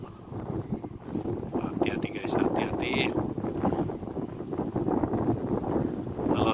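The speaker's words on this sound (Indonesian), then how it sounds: "Kamu orang boleh dengarkan dia punya bunyi angin" Strong wind buffets a microphone high up on an electricity transmission pylon, a loud continuous roar with gusts throughout and a voice speaking over it.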